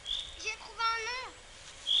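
A bird calls from a tree in a forest: thin, high chirps come at the start and end, and a brief voice-like sweeping sound falls between them over quiet background hiss.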